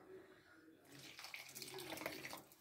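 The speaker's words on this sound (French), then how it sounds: "je vais pouvoir incorporer de l'eau" Water poured into semolina while making sablé dough, a soft splashing, trickling pour starting partway through and continuing steadily, fairly quiet and close.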